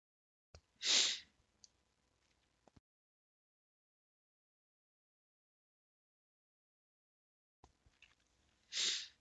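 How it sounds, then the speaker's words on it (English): A person with a cold in a quiet room gives two sharp sniffs or coughs several seconds apart, close and brief, with faint clicks between and no talking. "I am coughing up a storm."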